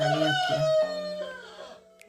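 A rooster crows nearby in one long, drawn-out call that fades out, with a brief spoken word near the start.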